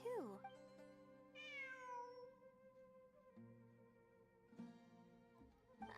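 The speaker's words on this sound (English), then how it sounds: "It really is a cat." A cat meows near a video game stream, giving drawn-out, falling meows over a steady background of game music, with a person's voice also present.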